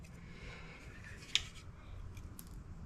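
A single sharp snip as a screw is cut off during installation of ADV 2-inch Bronco fenders, one brief crisp click standing out over a low, steady background hum.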